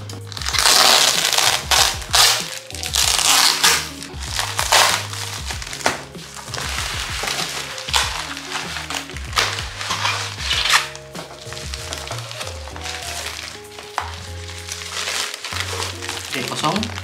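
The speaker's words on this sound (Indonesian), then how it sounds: "Oke, kita akan langsung unboxing barangnya." Unboxing of a wireless Bluetooth keyboard and mouse combo for tablets, with steady crinkling plastic, rustling packaging and handling clatter close by, continuous throughout.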